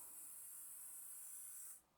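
WD-40 aerosol sprayed onto a car surface, one steady close hiss lasting under two seconds that cuts off abruptly.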